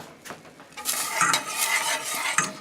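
A pan heating on the stove while making rice pudding starts to sizzle softly, with light scraping and stirring sounds close by.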